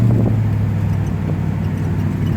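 A 1964 Mercury Comet convertible rolls over railroad tracks, its engine a steady low rumble with faint bumps and thumps from the crossing, no talk.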